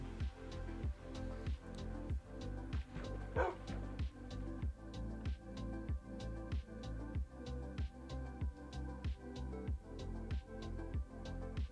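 A dog in the Minecraft video game barks in a steady repeating rhythm, about once every half second, moderately loud and continuous, with faint game ambience underneath.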